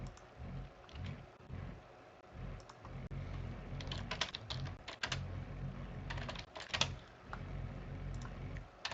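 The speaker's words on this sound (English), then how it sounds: "Just for 20 seconds, just typing in my Twitch." Quiet computer keyboard typing, bursts of rapid key clicks with short pauses, fairly close but soft, over a low room rumble.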